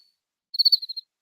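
A single cricket gives a short burst of about six rapid, high chirps, clear and close, in otherwise near silence, with one more chirp beginning at the very end.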